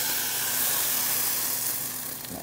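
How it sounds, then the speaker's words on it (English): Coconut milk hisses and sizzles steadily as it hits a hot, steaming pan to deglaze it during a salmon and farro cooking class, a continuous close, even sizzle with no talking. "you want to hear that nice little sizzle"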